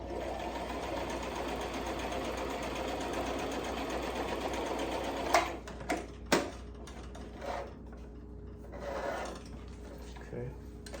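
A sewing machine stitches fabric for a slim fit necktie, a steady close whirring run for about five seconds, then a few short clicks and knocks as the stitching stops.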